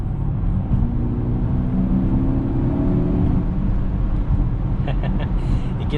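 2021 Mercedes-Benz GLE 580 gaining speed from inside the cabin, a low steady engine hum and road rumble building smoothly with a slight rise in pitch, fairly loud throughout.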